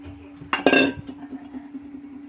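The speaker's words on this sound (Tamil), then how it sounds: "நம்ம காஃபி தூள் போட்ட பின்னாடி நம்ம மிக்ஸ் பண்ணி விடலாம்" A spoon clinks a few times against a glass while coffee powder and milk are mixed for bubble tea, a short bright burst of metallic taps over a faint steady hum.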